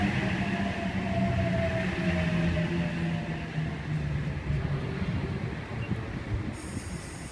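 A Sydney Trains H6 set arrives at Ourimbah station platform, rumbling and grinding at moderate volume with faint wheel squeal and tonal brake hums that fade gradually as it slows.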